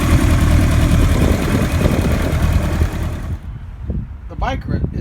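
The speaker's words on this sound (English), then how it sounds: "The bike runs really, really good" A 1978 Kawasaki KZ1000A motorcycle engine runs loudly and steadily at close range for about three seconds, then cuts away to a quieter background with faint voices.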